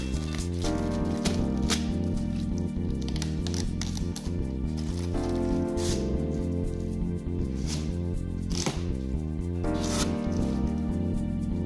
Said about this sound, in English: Remove the blue packaging tape and the plastic film.